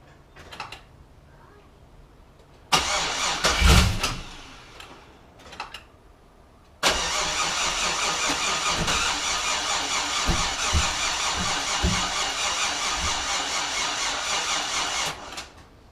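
A procharged Chevrolet Trailblazer engine being cranked: a short failed cranking burst, a pause, then it fires and settles into a loud, steady running roar that holds to the end.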